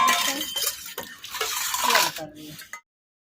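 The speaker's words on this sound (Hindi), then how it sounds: "मैं यहाँ पे बर्तनों को धो रही हूँ" Dishes being washed by hand under running water in a home kitchen sink, with a steady wash of water and clinks of crockery and utensils close by, broken by short pauses before stopping abruptly.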